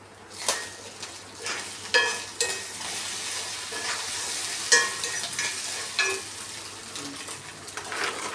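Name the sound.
stir-frying carrot and onion in a pan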